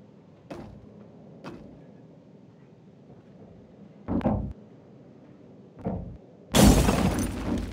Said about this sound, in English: so falling glass will happen